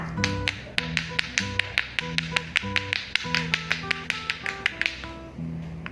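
A rapid run of dry, light taps rattling irregularly, like small beads striking a taut paper surface, from a twirled pellet drum toy made of cardboard, with no voices present.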